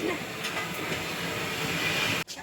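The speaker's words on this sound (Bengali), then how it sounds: "মেশিনে মশলা বাটা হচ্ছে।" Spice-grinding machine whirring in a busy home kitchen, a steady continuous hiss-like hum running throughout before cutting off sharply near the end.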